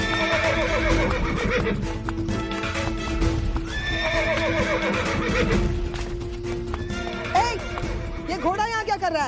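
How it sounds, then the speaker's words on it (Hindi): A horse whinnies loudly several times in a dramatized period palace setting, its calls rising over a busy, continuous background with hoofbeats and people talking throughout. "ये घोड़ा यहाँ क्या कर रहा है?"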